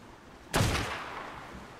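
Gunfire in the video game ARK: Survival Evolved, aimed at a shark: one sudden, loud shot-like blast that fades out over about a second, with no voices.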